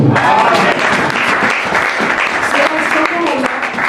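A church congregation bursts into loud, sustained applause with cheering voices, a dense wash of clapping that stays steady for the whole stretch.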